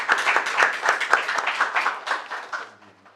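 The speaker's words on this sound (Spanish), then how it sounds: "Le damos un fuerte aplauso, por favor, a Alessandro" A conference audience gives a speaker a round of applause, dense overlapping claps that hold steady for a few seconds and then thin out and fade.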